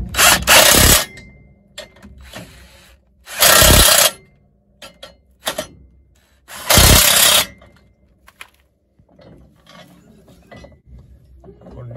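Impact-style tool tightening bolts on a John Deere MOCO disc mower shear hub, three short loud mechanical bursts spaced a few seconds apart amid light clanking.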